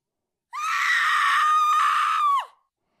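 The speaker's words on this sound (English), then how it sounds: "I'm going to put a scream sound or something now" A woman's scream sound effect rings out alone as a single sustained, piercing cry of about two seconds that ends in a falling trail, with silence before and after.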